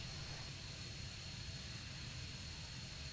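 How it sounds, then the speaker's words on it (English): An A-164 fixed-wing jet in Arma 3 gives a steady, even engine roar throughout during its runway landing approach, faint overall and unbroken by other sounds. "let's see if we can land properly on this runway"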